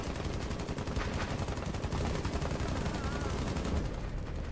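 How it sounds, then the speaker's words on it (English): Rapid automatic gunfire from Rainbow Six Siege rattles continuously in a dense, fast stream of shots, fairly distant and muffled, with no pause. "whoever that is, stop shooting"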